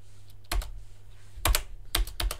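Computer keyboard keys pressed in quick clattering clusters, three or four bursts of sharp clicks separated by brief pauses, close and fairly quiet, with no talking.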